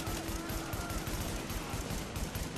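Gunfire in The Division beta, rapid bursts of automatic shots firing in a dense, continuous fusillade at moderate level throughout, with no talk over it.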